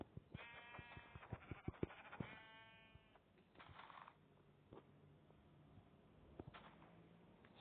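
Several sheep bleats sound in quick succession amid clicking, mechanical game effects, then quieter scattered clicks and a few more faint bleats.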